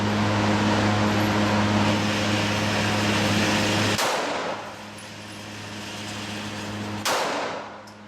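Two sharp reports from a Glock 19 9mm pistol, several seconds apart, cutting through a loud steady background hum, each with a brief ringing decay.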